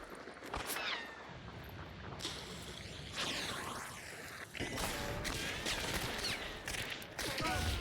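Pistol shots from a first-person shooter, Hunt: Showdown, crack out in several broadband bursts over a steady, noisy game soundscape, with a few scattered sharp impacts and a faint voice at low level in the background.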